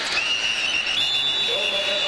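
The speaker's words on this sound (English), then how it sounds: "Whistles were sounding as he was still driving forward." A referee's whistle shrills during a 1990 Auburn vs. Georgia college football game, with a sustained blast joined by a second whistle over stadium crowd noise.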